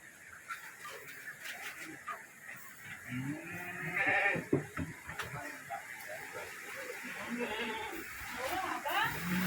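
Lamb bleating among a flock of sheep on an outdoor walk, short calls rising now and then amid shuffling and people talking nearby.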